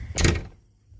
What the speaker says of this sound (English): close them doors firmly on that tractor when the windows are all shut